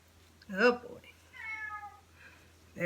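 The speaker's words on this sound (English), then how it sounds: "There's the cat." A house cat meows twice in a quiet room, a short tonal call followed by a longer drawn-out one, then another meow beginning at the end.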